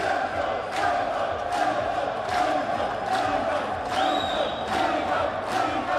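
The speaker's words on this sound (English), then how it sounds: "And the crowd cheering in the background, Senzo, Senzo, Senzo, Senzo" A crowd at a BSA men's singles pool final cheers and chants a player's name in a steady, rhythmic roar. The voices pulse in repeated chant beats, with occasional whistles cutting through the crowd noise.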